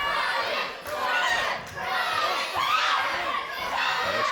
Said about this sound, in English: This crowd is calm and alive